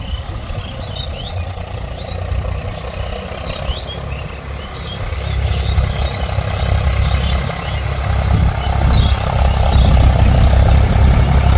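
A vehicle engine running steadily while working a farm field, a loud low droning hum that builds slightly louder toward the end, with no talking.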